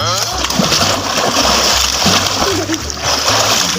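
Someone dunks into cold water on a winter day, loud, close splashing and sloshing that churns throughout while a voice talks over it.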